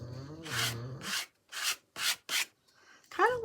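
Paint being scraped across a surface to form tree shapes, several close rasping strokes of about half a second each with short silent gaps between them, plus a brief voice near the start and again at the end.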